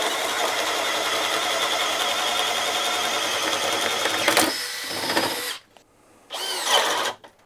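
Makita cordless drill running at low speed 1, boring through a workpiece with a steady high whine for about four seconds, then a stalling burst, an abrupt cutout to near silence, and a final short spin-up.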